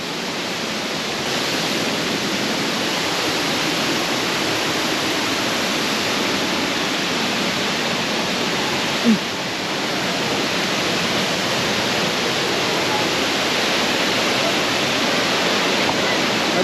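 Imugan Falls waterfall pouring steadily, a dense continuous roar of falling water heard close and loud with no talk over it.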